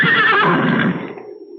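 A horse neighs loudly in a radio drama, a single strong whinny that rises then trails off over under two seconds, heard alone without talk.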